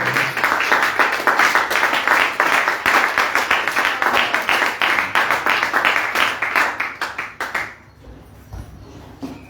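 A church congregation claps for the Lord in a fast, dense, steady rhythm of many hands. The loud applause carries on for about eight seconds, then fades off into quiet room tone.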